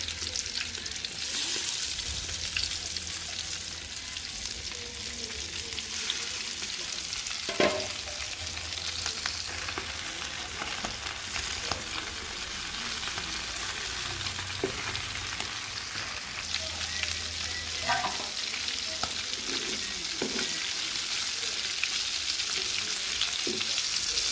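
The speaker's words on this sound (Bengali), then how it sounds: "তেল গরম হয়ে গেছে মাছগুলো দিয়ে দিব" Small jatka fish fry in hot oil in a home kitchen, a continuous close hiss and crackle of sizzling with a few clinks of stirring and turning, and no talk.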